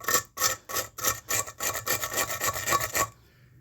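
A hammer scrapes across the surface of a concrete block in a dozen quick, regular rasping strokes, close and fairly loud, each stroke a gritty scratch separated by short gaps, ending abruptly.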